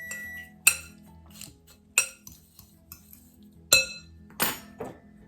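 Brown sugar and gluten-free graham cracker crumbs being mixed in a bowl: a few sharp, separate clinks of utensil against the bowl spaced over several seconds, with soft scraping between them.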